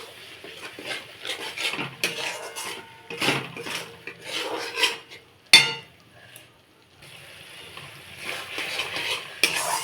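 Spice paste for a katla fish kalia is stirred and scraped in a pan, with repeated rasping strokes of a spatula, a sharp metal clank in the middle and a brief lull before stirring resumes.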